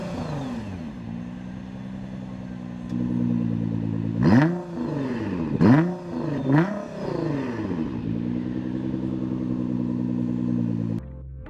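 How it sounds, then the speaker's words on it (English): A 2020 Nissan GT-R fitted with a Boost Logic X-pipe idles with a deep, throaty exhaust rumble, then three sharp revs rise and fall before it settles back to a steady idle, loud and close. "Let's listen to the exhaust."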